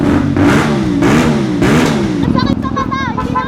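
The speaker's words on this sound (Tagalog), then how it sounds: "The exhaust sound, dahil nga naka 270 degrees crank configuration siya." CFMOTO 450MT motorcycle with a 270-degree crank twin engine, loud nearby exhaust revving up and down in rising and falling sweeps, with a higher whine toward the end.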